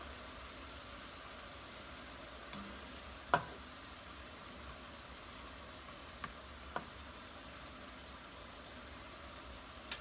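Pre-minced garlic cooks in a pan with a faint, continuous sizzle and a few soft clicks of cookware. It is quiet, steady and has no talk over it.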